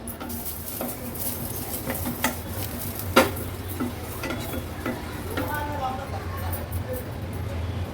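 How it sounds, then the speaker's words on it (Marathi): Okra roasts in a pan heated on a gas stove and greased with a couple of drops of oil. It gives a soft, steady sizzle broken by stirring scrapes and an occasional utensil knock, with faint talk in the background. "आता ही भेंडी आपण ह्याच्यात भाजून घेणार आहोत"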